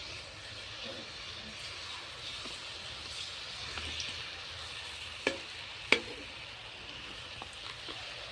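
Jalebi frying in oil in an ordinary kadai, a steady faint sizzle and hiss running throughout, with a few sharp clicks or taps from utensils near the end.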